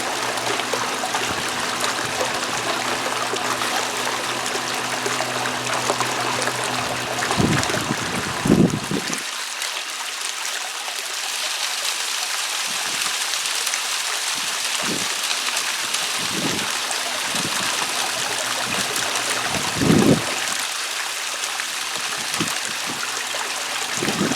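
A small 1100 pump running at about three-quarters speed drives water through a gold sluice loaded with store-bought sand and rocks, giving a continuous rushing, trickling wash with occasional low knocks and splashes.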